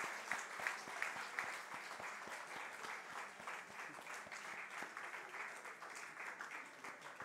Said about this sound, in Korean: 우리 또 다시 또 박수로 축하드리겠습니다.